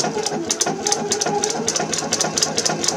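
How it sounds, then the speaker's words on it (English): A sewing machine stitches a knit sleeve into a garment, its needle clattering in a fast, even rhythm close by, running continuously and loudly with no talk. "So let's begin to sew."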